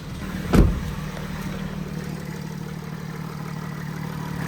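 A brief burst as a van engine cranks and catches, then a steady low idle hums on without a break.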